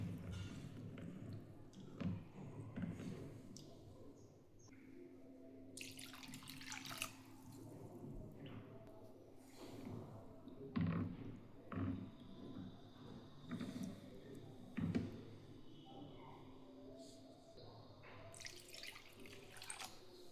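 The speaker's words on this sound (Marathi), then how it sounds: "2 ते 3 वेळेस पोहे धुवायचे आहेत।" Flattened rice (poha) is washed by hand in water, with quiet splashes, drips and soft squishes coming in irregular bursts at close range.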